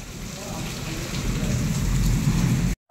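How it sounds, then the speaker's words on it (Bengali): Heavy rain pours down hard during a violent storm, a dense, continuous roar of rainfall with low rumbling underneath, loud and close throughout before a brief sudden gap at the end. "বৃষ্টি ভীষণ রকমভাবে বৃষ্টি হচ্ছে,"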